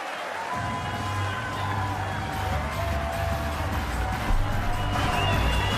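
Darts crowd at Lakeside during the 2017 BDO World Darts Championship, steady loud applause and cheering from a large audience that holds without a break throughout.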